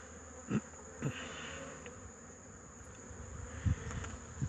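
Steady insect buzzing from many honey bees at a hive entrance, returning loaded with pollen, with a few louder buzzes as individual bees pass close by the microphone.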